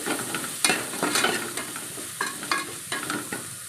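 Onions sautéed with turmeric and Kashmiri chili powder for a beef curry, a steady close sizzle broken by about seven sharp spoon scrapes and stirs against the pan, no voices.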